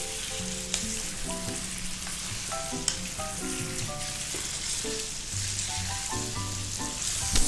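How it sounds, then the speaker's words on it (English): Lamb browning in a pan for curry, a steady bright sizzle and crackle of frying with occasional clinks from stirring, alone and without talk. "brown it very well. Keep stirring."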